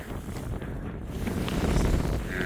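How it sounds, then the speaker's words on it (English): Strong wind gusts buffet the microphone on a cold, icy Scottish mountain summit, a loud roaring rush that swells and fades over a couple of seconds. "Let's see how the wind is."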